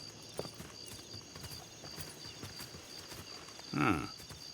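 A horse in Red Dead Online gives a few soft hoof clops and then a short snort or whinny near the end, quiet over low ambient game background.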